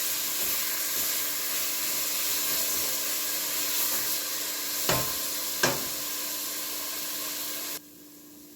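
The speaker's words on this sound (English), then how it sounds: "I'm going to add my onion in here. And I'm going to saute this a little bit" Chopped onion sautéing in a pot after chicken for a green peas stew, giving a steady, even sizzle with two brief clinks of a stirring utensil near the end before it cuts off.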